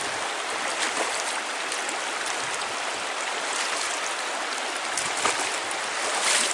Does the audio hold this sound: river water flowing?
yes